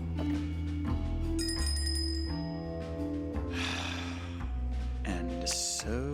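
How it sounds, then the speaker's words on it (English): Ladle struck against a bell in the adventure game Shardlight, a bright metallic ring with sustained high overtones that fade out, layered over game music and effects, with a person talking at moments. "I guess we use the ladle on the bell."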